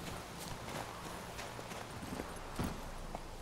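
Roach, the horse in the video game The Witcher 3, trots along with quick, steady hoof clip-clops, a close and fairly quiet rhythmic patter that repeats across the short stretch.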